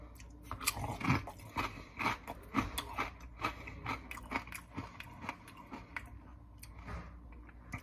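Crisp repeated crunching of a Frederiks by Meijer kettle cooked crinkle potato chip with rosemary and feta, close and loud, bites and chewing in an irregular rhythm.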